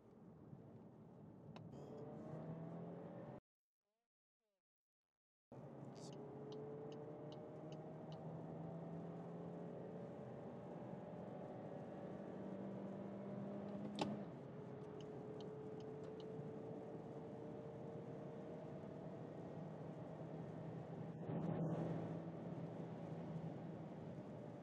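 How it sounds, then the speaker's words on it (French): A 2025-era VW Golf 8 facelift in Style trim, 1.5 TSI with a manual gearbox, cruising on a German autobahn: a steady, muted cabin engine drone with rising tones, a brief dropout and a shift shortly after midway. "Autoroute allemande, je vais rétrograder en deuxième vitesse."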